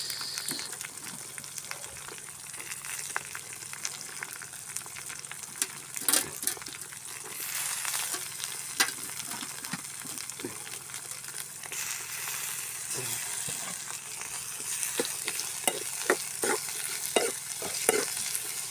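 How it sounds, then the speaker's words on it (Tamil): Onions sizzle and fry in a pan for a potato and egg masala, with repeated scraping stirs and clatter over a continuous hiss, up close and unaccompanied by speech. "வெங்காயத்தையும் போட்டாச்சு"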